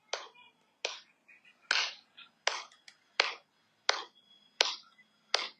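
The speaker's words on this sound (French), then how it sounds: "Savez-vous pourquoi j'applaudis?" A single man claps his hands in spaced bursts, about nine sharp, close claps with brief ringing tails and pauses between them, each one loud and alone in an otherwise quiet room.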